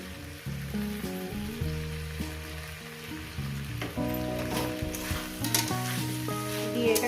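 Amul ghee sizzling in a cooking pan, a steady close hiss with musical tones playing over it, no one speaking.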